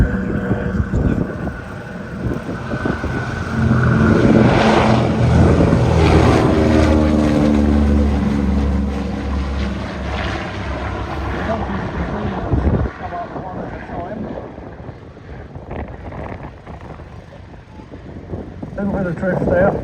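A P-47 warbird propeller aircraft passes at an airshow, a loud droning engine roar that swells, shifts pitch and then fades, with wind noise and a commentator talking over it.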